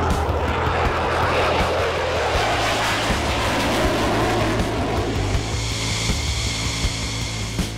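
A Republic of Singapore Air Force F-16 fighter jet flies nearby, its loud, steady engine roar filling the whole stretch without a break.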